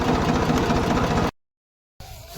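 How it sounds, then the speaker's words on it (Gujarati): A haller threshing machine engine runs with a steady, dense mechanical rumble and rapid pulsing beat, loud and close, then cuts out abruptly to silence before a fainter return. "ચાલુ હતો હલર"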